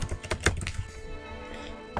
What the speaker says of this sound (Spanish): colocamos la contraseña.